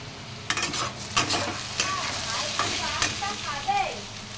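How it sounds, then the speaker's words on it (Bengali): Potatoes frying in a pan, a steady sizzle with repeated scraping stir strokes and a few light utensil clinks, heard alone up close. "আলুটা ভাজা হয়ে এসছে"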